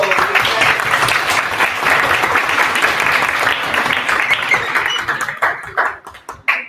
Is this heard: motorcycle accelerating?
no